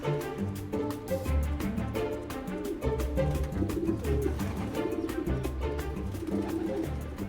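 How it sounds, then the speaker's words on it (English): Racing pigeons coo steadily at a pigeon loft, with a dense chorus of low, overlapping throaty calls close by and continuing throughout. "the experienced pigeons are just arriving back now"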